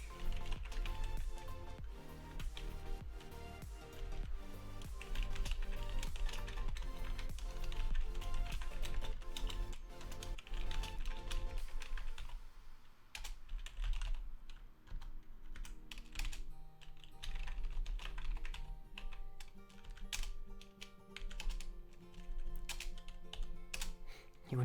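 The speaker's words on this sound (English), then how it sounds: "I just realized you guys can't see a single thing I'm typing there." Rapid clattering on a computer keyboard, dense and continuous for the first half, then lighter and more scattered keystrokes, close and fairly quiet.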